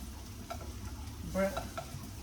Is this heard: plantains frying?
yes